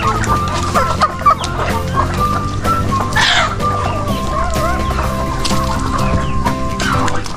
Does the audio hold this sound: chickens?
yes